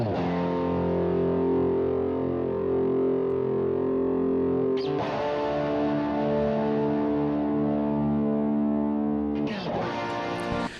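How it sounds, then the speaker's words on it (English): Two half-time rhythm slide guitar parts, panned left and right, ring out in long sustained distorted chords, with fresh strikes near five and ten seconds, loud and continuous with no voices. "So these are what I've called rhythm slide left and right."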